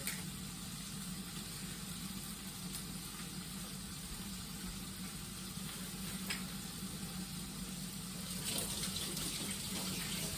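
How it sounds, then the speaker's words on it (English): Tap water runs steadily into a kitchen sink as hands are rinsed while preparing carbonara, a continuous close splashing hiss lasting throughout with a slight surge near the end, no talking. "Wash my hands."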